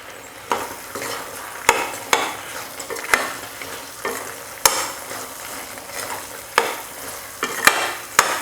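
Meal maker soya chunks are stirred into thick masala frying in a pan, a steady close sizzle broken by repeated scraping knocks of the spoon against the pan, with no talking.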